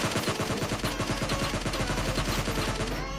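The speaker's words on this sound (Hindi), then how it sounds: "मेरे को बचना था इसलिए मैंने रैंडम फायर किया था" Rapid, continuous automatic gunfire from PUBG Mobile Lite, a dense stream of loud shots with evenly spaced bursts filling the whole stretch, no talking over it.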